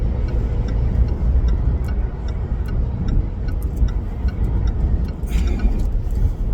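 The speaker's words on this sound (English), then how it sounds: "It's kind of crazy the way traffic is right now." Road traffic with a car engine, a steady low rumble of engine and road noise with faint ticking, continuous and fairly loud from inside a moving car.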